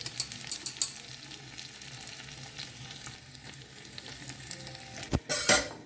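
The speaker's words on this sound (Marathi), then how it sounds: "सो आतां घालया आमी लसूण आनी लसूण न्ही मातशें ब्रावन जायसर न्ही बरें फ्राय करून घेवंक जाय" Garlic fries in hot oil for a dal palak tempering. It gives a continuous close crackling sizzle with stirring scrapes, and ends in a louder burst of hissing and clatter.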